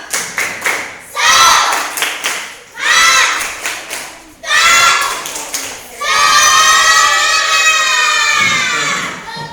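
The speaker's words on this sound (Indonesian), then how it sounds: "Tepuk lebih semangat." A group of children claps more energetically in loud rhythmic bursts, each round growing livelier and ending in sustained cheering and shouting from the crowd.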